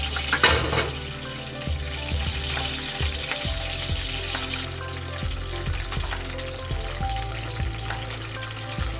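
Curry leaves frying and sizzling in hot oil in a home kitchen for a raw prawn and broad bean curry, a steady crackle with stirring and utensil scrapes throughout, near and fairly loud.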